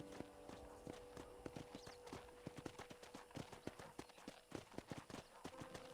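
Horse hooves clip-clop in a steady, quick rhythm across a ranch in Red Dead Redemption, close and clear and mostly alone.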